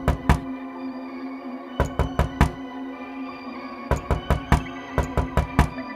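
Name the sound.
loud knock on a door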